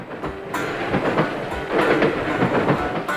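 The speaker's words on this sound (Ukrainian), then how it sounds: "Це звук потяга, колеса якого проїжджають через стик однієї рейки з іншою." Train wheels clatter rhythmically over rail joints in repeated clickety-clack pairs beneath a steady rolling rumble, close and continuous.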